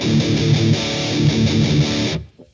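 Heavily distorted old-school death metal electric guitar riffing through amp-sim plugins, dense and saturated, chugging for about two seconds before cutting off abruptly into a brief ringing tail.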